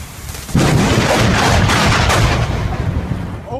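A sudden storm brings a nearby lightning strike. A sharp, explosive crack turns into a loud, sustained roar of thunder that slowly fades.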